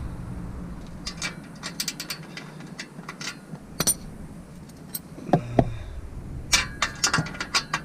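Quick ratchet clicks in short bursts, with scattered metallic clinks as 13 mm exhaust bolts are worked loose on a Vauxhall Astra VXR, close up and fairly quiet.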